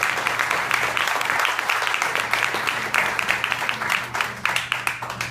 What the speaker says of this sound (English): I want you all to give yourselves a round of applause for showing up tonight